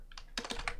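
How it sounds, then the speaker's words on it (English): Quick keystrokes on a computer keyboard while typing in a word processor: a short run of close, crisp clicks, a few soft taps and then a faster cluster. "So I'll go to my Microsoft Word and start typing."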